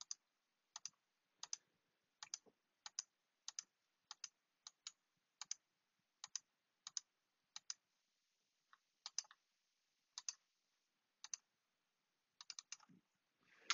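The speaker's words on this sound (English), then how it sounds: "I click to set the first point, and then I can click and where I want additional points" Rapid, crisp computer mouse clicks placing polygon points in drafting software, arriving in fast irregular bursts, close and dry in a quiet room with no voices.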